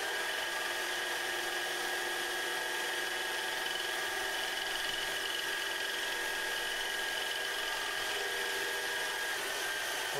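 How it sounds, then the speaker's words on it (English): A lubricant test rig's spinning shaft makes a steady, high mechanical whine with no speech, its speed only faintly dipping and recovering. "You will occasionally hear the shaft speed slow and then pick up again as the material functions"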